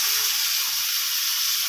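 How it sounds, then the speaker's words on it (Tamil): Chopped tomatoes drop into a pan of oil with sautéed onions and turmeric, giving a steady, close hiss of sizzling frying that holds evenly throughout with no talk. "இப்போ தக்காளி போட்டுடலாம்."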